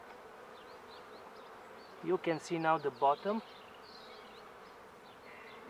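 Honeybees buzz in an upper beehive box during early spring, a soft, steady hum throughout, while someone speaks briefly in the middle.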